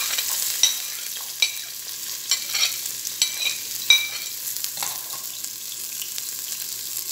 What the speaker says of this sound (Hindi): उसमें 1 कटी हुई प्याज डाल रही हूँ।